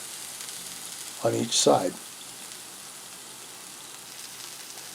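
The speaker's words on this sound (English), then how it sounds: "You want to sear the pork" Pork searing in a couple tablespoons of oil over medium-high heat gives a soft, steady sizzle in the background, with a short burst of talk partway through.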